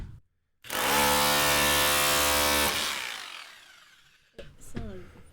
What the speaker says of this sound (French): marteau rotatif électrique